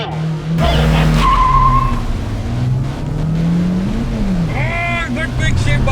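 A Honda City and a Kia Sonet launch side by side in a drag race, engines revving hard with rising and falling tones, tires squealing briefly, and a voice talking over the close, loud run.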